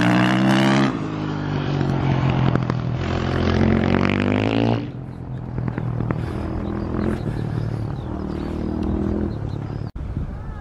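A motorcycle engine revs and roars loudly, its pitch rising and falling, then settles into a lower idling rumble.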